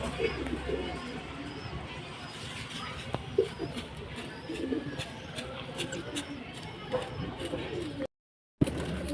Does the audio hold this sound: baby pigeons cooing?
yes